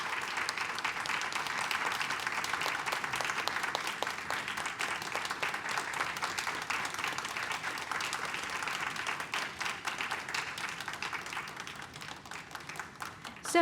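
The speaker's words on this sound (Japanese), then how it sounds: "どうぞ皆様、大きな拍手でお迎えください。" A hall audience applauds panelists coming on stage at a food culture session. The dense, even clapping holds steady throughout and sounds moderately distant and soft, with no talk over it.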